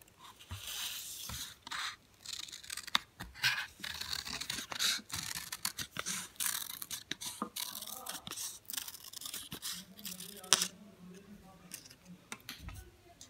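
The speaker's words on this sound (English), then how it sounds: "One more circle I am cutting." Scissors snipping around a paper circle for a Mother's Day craft, with repeated close cuts and paper rustles, quiet and intermittent, with a person talking softly at times.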